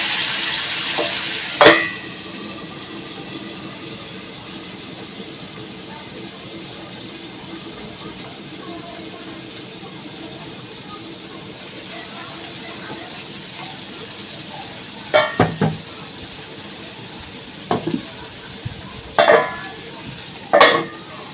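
Onion, ginger, garlic, tomato and chilli frying in a pan, a low soft sizzle under a few sharp clatters and scrapes of stirring, clustered near the start and toward the end.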